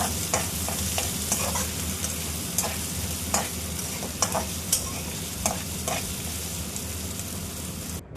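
A coarsely pounded paste of ginger, garlic, fennel, cinnamon and clove sizzles loudly in hot oil, a steady close frying hiss broken by scattered stirring clicks and spatters, with no voices.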